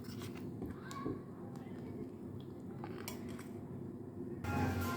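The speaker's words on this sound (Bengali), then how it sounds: "এখানে এবার অ্যাড করে দেব আমি চিনি, দিয়ে আমি নাড়াচাড়া করে নেব।" A spoon stirs sugar into shyama rice payesh in a pot, giving a few soft clinks and scrapes against the metal, quiet and close, ending in a brief louder scrape.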